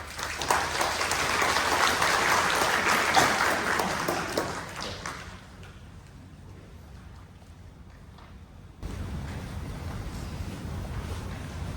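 A congregation at a Fresno Buddhist temple's Friends and Family service applauds to welcome a reverend: dense, sustained clapping for about five seconds, then it fades to a quiet room murmur before a steady background hum returns.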